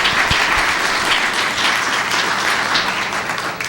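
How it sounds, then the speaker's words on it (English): An awards ceremony audience gives loud, dense applause, many hands clapping together close by in a continuous burst that stays strong throughout and eases off slightly at the end. "Let's give Linda a round of applause."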